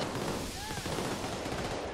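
Rapid sustained gunfire from a minigun in the video game Payday 2, a dense continuous roar of shots filling the whole moment at steady loudness, with faint voices under it.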